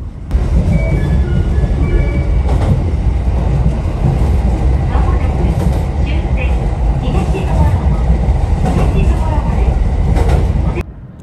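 A JR West train runs along a short elevated section in Kansai, giving a continuous close rumble and rattle from inside the carriage that holds steady for about eleven seconds before cutting off.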